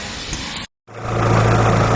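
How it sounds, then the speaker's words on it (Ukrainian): A car engine runs steadily during a cylinder-by-cylinder check, cutting out completely for a split second and then returning with a fuller, rougher idle hum, close and with no talking. "перший циліндр слухаємо і чутно іскру, і реакція двигуна змінюється"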